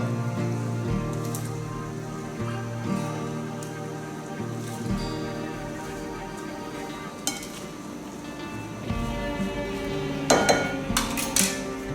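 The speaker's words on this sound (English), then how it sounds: "So mix it well." Spicy shrimp salad is tossed and mixed in a bowl, with soft utensil scraping against the dish throughout and a few sharper clinks near the end.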